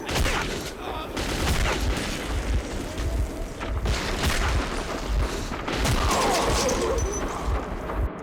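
Enemies firing big guns in the Metro 2033 video game, a dense, loud, continuous barrage of booming shots and crashes filling the whole stretch, with faint voices underneath.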